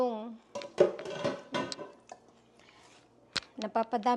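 Cookware clatters in a home kitchen as creamy chop suey is transferred into a bigger pan, several sharp clanks and scrapes, with a person talking between them.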